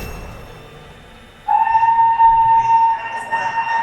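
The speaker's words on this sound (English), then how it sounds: "That was an extreme train whistle." A train whistle blasts from about halfway in, a loud, sustained tone that holds steady and clear for over two seconds before wavering, cutting over low rumbling background noise.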